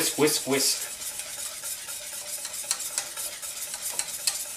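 Tempered eggs whisked back into a mixture in a pot, with a steady, close scraping and clinking of the whisk against the pot that continues without pause, with no talk.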